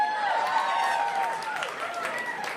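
Scattered applause from a mixed comedy-club crowd at a stand-up show, a thin patter of claps and murmurs under a tonal, slightly musical background rather than a full ovation.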